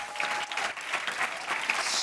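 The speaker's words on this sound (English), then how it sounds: "Please give them a round of applause." A small audience claps briefly and moderately, a scattered patter of hand claps that stays fairly light and close.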